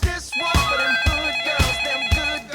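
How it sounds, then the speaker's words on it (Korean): Telephone ringing in a regular electronic pattern of repeating tones, with a beat roughly every half second, steady and clear against a light musical backdrop. "강력 1팀에 한 통의 전화가 왔어요."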